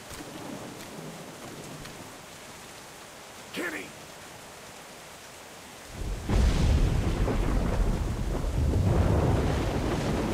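Steady rain and rumbling thunder from a storm in The Walking Dead Season 1 game, a soft wash of rain that swells into loud, heavy downpour with a thunder roll in the second half, with a brief voice-like sound early on.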